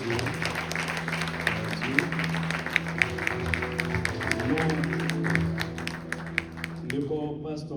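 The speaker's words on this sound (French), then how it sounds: "L'Église, nous vous demandons de les applaudir." A church congregation applauds in a sustained wash of clapping with scattered sharper claps, steady throughout before thinning at the very end, with a voice faintly present underneath.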